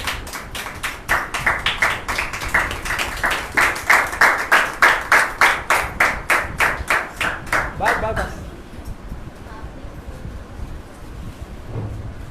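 A church audience claps loudly in a steady, rhythmic beat to welcome a preacher, about twenty sharp, even claps over eight seconds before the clapping stops and the room quiets.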